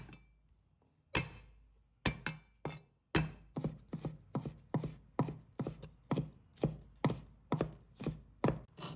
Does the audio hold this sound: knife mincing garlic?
yes